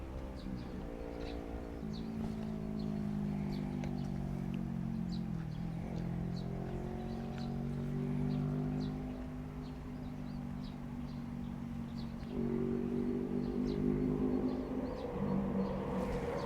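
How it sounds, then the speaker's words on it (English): A loud train passes in the distance near a Chiba doge statue site, a sustained droning rumble with shifting engine tones that swells toward the end, with no talking. "That train is so loud."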